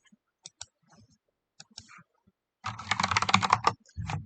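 Computer keyboard typing begins with a few sparse, isolated key taps, then breaks into a rapid, dense burst of clicking up close, and faint low speech comes in at the very end.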